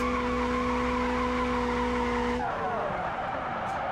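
A car drifting and skidding in the BeamNG driving game: steady engine drone with sustained tire squeal that abruptly cuts off partway, leaving a rougher scraping rumble, loud and close.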